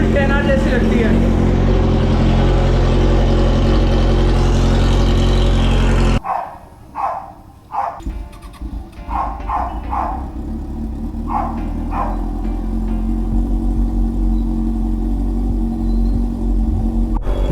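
A car running with its exhaust removed gives a loud, raw engine roar with a heavy low rumble, steady at first, then breaking into uneven revving bursts before settling back into a constant drone.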